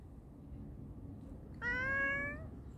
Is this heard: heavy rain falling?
no